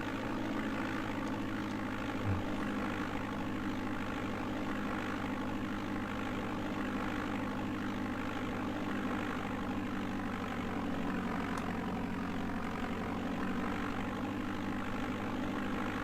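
Steady, droning propeller aircraft engine in the DOS game Flight Simulator 5.1, holding an even hum at moderate level through the whole stretch with no voices over it.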